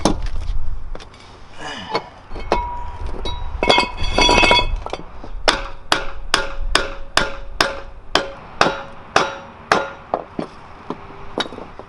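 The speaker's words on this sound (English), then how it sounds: "I just offset it and used a punch to tap it back and it slid right off" Metal punch strikes ring out sharply as a collar is tapped off a Mazda RX-7 rear knuckle, a scatter of clinks early on followed by a run of evenly spaced, bright hammer taps up close.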